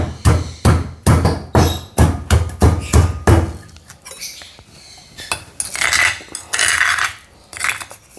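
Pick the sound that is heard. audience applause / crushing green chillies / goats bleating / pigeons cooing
crushing green chillies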